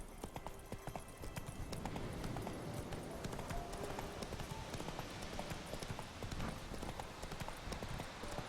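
Horse hooves in The Witcher 3 pound in a steady galloping clip-clop rhythm, loud and close throughout, with a brief snort or whinny and a faint voice now and then.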